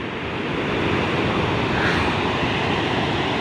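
Surf washes steadily onto a beach on a raw coast of Peru, a continuous broad roar of breaking waves mixed with wind rumble, close and fairly loud with no talking.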